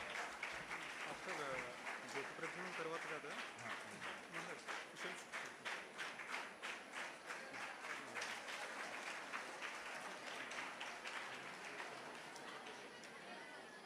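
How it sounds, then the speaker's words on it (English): Audience applause at a national education conference held in a monastic hall, dense steady clapping from many hands filling the room throughout, with a few louder claps standing out near the front. "Please don't clap for each and every announcement"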